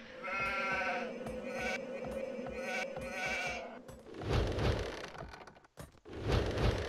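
Sheep bleating in the Age of Empires 2 HD Edition strategy game, a steady wavering bleat repeated over a few seconds, followed by a rougher crackling hiss of game ambience.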